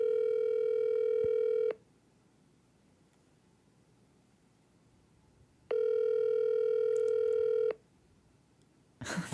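A phone call rings out with two long, loud tonal ringback bursts separated by about four seconds of quiet line hiss, followed by a brief rustle at the end.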